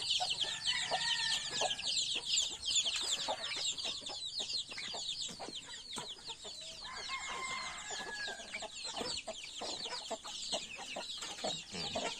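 A flock of penned chickens cluck and chatter busily at feeding time, with dense overlapping calls, loud and close, and occasional rustling among the birds.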